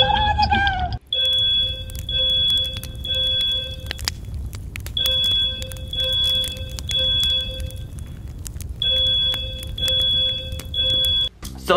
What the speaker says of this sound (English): So the fire alarm was fake.